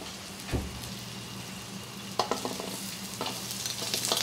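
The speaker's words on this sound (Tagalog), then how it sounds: "Babanhayin muna natin ng konti. Yung sibuyas natin tsaka bawang yan." Chopped onion and garlic sizzle in a hot pan, with a steady frying hiss and occasional stirring scrapes and clinks of a utensil near the microphone.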